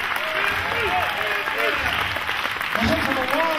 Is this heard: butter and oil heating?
no